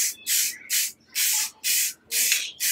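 Rhythmic bursts of spray paint hissing from an aerosol can onto an airsoft M16 BB gun outdoors, about seven short, loud sprays with brief gaps between them, with no talking.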